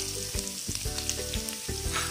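Onions sizzle steadily in hot oil in a pan while a Telugu-style cabbage egg fry is being cooked, with a continuous bright crackle and a few stirring bumps, and steady tones sound underneath.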